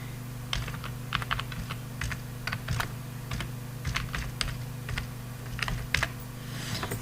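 Rapid, uneven clicking of a computer keyboard while an email is typed during data entry in Microsoft Access, with close, fairly quiet keystrokes coming in short bursts and no voices.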